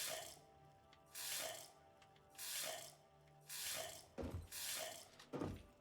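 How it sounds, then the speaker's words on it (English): Running water from a faucet in the video game Satisfactory, heard as repeated bursts of broadband splashing gushes, roughly five spaced pulses, with a couple of short thunks near the end. "the faucet works, that's awesome"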